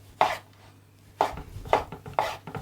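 A knife chopping tomatoes on a cutting board, four distinct, fairly close thuds spaced about half a second to a second apart, with soft scraping between, no talking.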